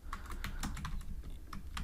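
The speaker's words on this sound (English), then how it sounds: "here I will type, so let's put a comment" Fast, steady typing on a computer keyboard, with close, light key clicks in an even stream and no talking.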